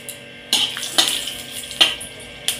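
Dried red chillies and bay leaf frying in mustard oil for a dal tempering, heard as a light sizzle broken by several sharp metallic scrapes and clinks of a spoon against the pan.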